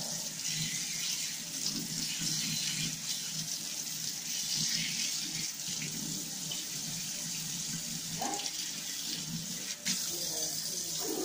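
Tap water runs steadily into a sink while items are washed, a constant close gushing splash with occasional knocks of things being handled and faint background sounds.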